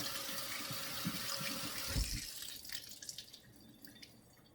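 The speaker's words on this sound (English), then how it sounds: "I can rinse them off here inside this netted dishcloth." Tap water runs over produce being rinsed inside a netted dishcloth at a sink, a steady splashing stream that eases off midway into lighter drips and trickles.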